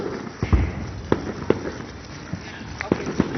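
Fireworks go off outdoors as a series of sharp pops and cracks, some louder than others, scattered irregularly over a few seconds with people talking nearby.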